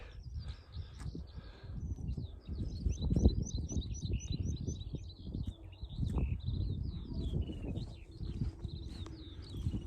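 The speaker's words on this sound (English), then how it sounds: "you can hear the birds tweeting away." Small birds chirp and tweet in repeated high bursts throughout, over steady outdoor rustle and low thumping footsteps nearby.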